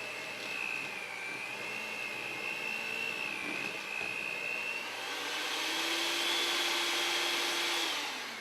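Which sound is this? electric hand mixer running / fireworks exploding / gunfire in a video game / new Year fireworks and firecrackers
electric hand mixer running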